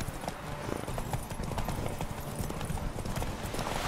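A horse in The Witcher 3 video game gallops steadily, its hooves clip-clopping in a quick continuous rhythm close by, with faint game ambience beneath and no talking.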